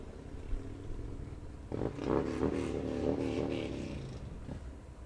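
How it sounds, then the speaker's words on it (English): Motorcycles rev their engines at a stadium bike night during a minor-league baseball game, a rising and falling throaty roar that swells after a quieter opening and carries on at a moderate distance amid crowd ambience. "You hear the bikes revving in their engines here on Motorcycle Bike Night."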